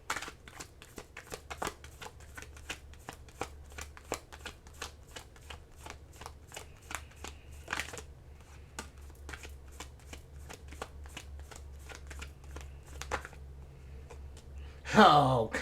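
Tarot cards are shuffled close up in a long run of crisp rapid riffling clicks and flutters, with a brief louder rustle at the end.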